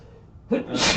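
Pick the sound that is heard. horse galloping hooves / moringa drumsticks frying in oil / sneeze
sneeze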